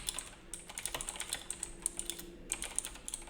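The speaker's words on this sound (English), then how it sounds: "Just typing in stuff, okay." Close, quiet typing on a computer keyboard during homework: irregular bursts of key clicks with brief pauses between runs, no talking.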